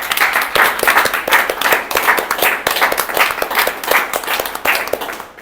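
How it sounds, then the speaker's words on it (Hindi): A seated crowd at a health talk claps loudly and steadily, dense hand claps rolling on without pause for several seconds. "ये हुई हैं भरपूर तालियां।"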